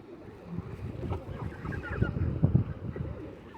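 Ducks and other birds gather outdoors to be fed bread, giving close, loud honking and quacking calls in a busy, overlapping stream, with light wind in the background.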